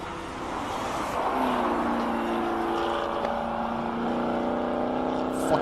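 A McLaren race car on a timed hillclimb lap at the Simola Hillclimb: a sustained engine note holding a steady pitch, then climbing and shifting as it pulls away, heard from a distance with a faint crowd and ambient wash underneath.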